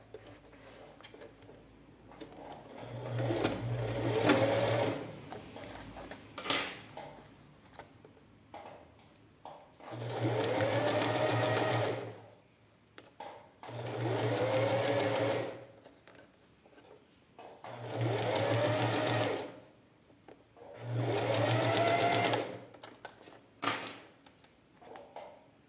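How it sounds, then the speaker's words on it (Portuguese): A sewing machine stitches bias binding onto a plastic case, running in five steady whirring bursts of a few seconds each with short pauses between them, fairly quiet and with no talking. "Então eu vou novamente costurar aqui. Só que do outro lado agora."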